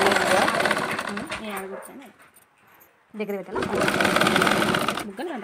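A sewing machine stitches a blouse sleeve design in fast, loud bursts of rattling needle clatter, pausing once for a couple of seconds before starting again; a voice speaks briefly in the gaps.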